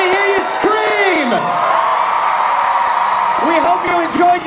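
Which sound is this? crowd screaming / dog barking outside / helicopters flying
crowd screaming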